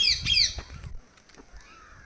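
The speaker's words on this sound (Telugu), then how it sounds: "ఇవేలో చిలకలు, బర్డ్స్." Parrots squawk in an aviary at Indira Gandhi Zoological Park in Vizag, a loud harsh burst of several calls up front followed by fainter scattered calls.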